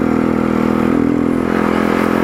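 A motorcycle engine labors loudly up a steep mountain road, a steady close throaty drone with slight pitch waver over a couple of seconds.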